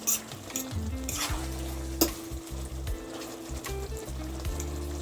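Tinned mackerel sizzles steadily in melting coconut oil in a pan for Jamaican mackerel and ackee, with a continuous fry hiss under intermittent low clunks and scrapes of stirring, close up, and one sharp clink midway.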